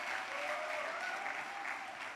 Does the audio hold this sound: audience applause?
yes